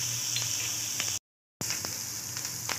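Grated coconut and ginger frying in hot oil in a pan, a steady close sizzle with faint crackles, briefly cut to silence midway before resuming.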